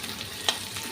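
Onions browning in oil in a pan for a Bengali chicken kosha, a soft continuous sizzle and crackle close by with a brief stir or clink midway, no voices.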